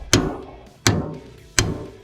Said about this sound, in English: So just hammer in, pickle fork.